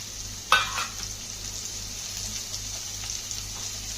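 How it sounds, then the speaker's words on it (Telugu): Onion, green chili and curry leaves sizzle in about three spoons of hot oil in a pan on the stove, a steady close frying hiss after a brief clatter as they drop in. "నూనె కాగాక ఉల్లిపాయ, పచ్చిమిర్చి, కరివేపాకు వేయండి."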